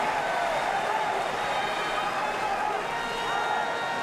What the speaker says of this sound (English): The crowd responding to the captain.